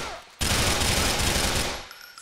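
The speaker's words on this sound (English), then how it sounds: "That was a good shot from him." A gunshot in Grand Theft Auto 4, a sudden loud blast followed by a rapid roaring burst of fire that fades away after almost two seconds.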